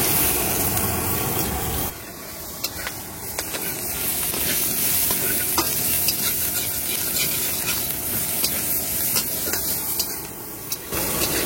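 Onions fry in hot oil in a pan with dried red chillies and whole spices, a steady loud sizzle broken by repeated scraping strokes of a spatula, the hiss dropping back briefly near the start and end.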